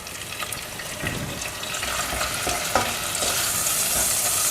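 Potato curry with mint leaves fries in a pan while being stirred, giving a steady close sizzle with scraping stir strokes throughout and no speech.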